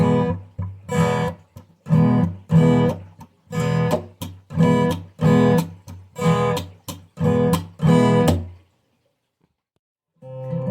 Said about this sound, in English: we have oscillating up and down strums that are sandwiching 2 muted notes